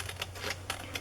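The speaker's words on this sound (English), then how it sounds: "I have to trim it a little" Paper trimmed close up while making a journal insert, giving a run of short, crisp cutting bursts at a steady rhythm, each about a quarter second apart, over a low constant hum, with no talking.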